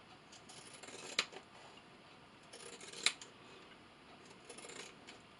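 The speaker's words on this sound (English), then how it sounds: "now I'm going to take my pinking shears and I'm going to pink around the sides" Pinking shears snip around the edges of quilted fabric in a series of soft crunching cuts, with two sharper snips standing out, all quiet and close against a hushed room.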